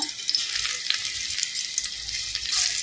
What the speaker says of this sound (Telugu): ఆయిల్లో వీటిని ఇలా వేసేస్తున్నాను నేను